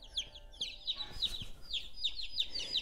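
Two-day-old Ameraucana chicks peep in a quick series of high, thin chirps, repeated in short clusters and fairly faint against a quiet room background with soft rustling.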